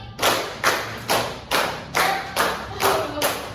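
Two rounds of four hand claps each sound in a steady, even beat, eight sharp close claps in all, with a faint voice murmuring under the last few.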